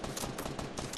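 Rapid gunshots from a weapon in Fortnite, a quick run of loud, closely spaced cracks filling the whole brief moment.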